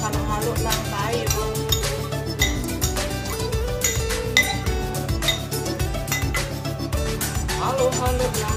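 Buko salad ingredients being stirred together in a bowl, with steady rapid clinks and scrapes of a utensil against the dish running continuously and close up.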